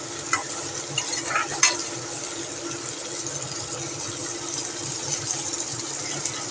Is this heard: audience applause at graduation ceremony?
no